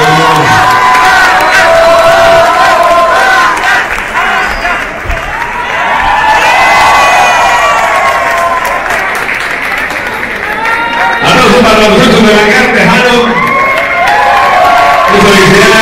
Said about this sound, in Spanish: aplausos que se producen.